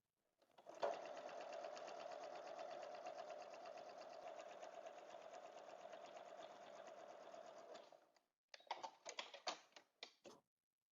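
A sewing machine stitches a straight line across a quilt in one steady, continuous run of about seven seconds, loud and close, then stops and gives several short bursts of stitching.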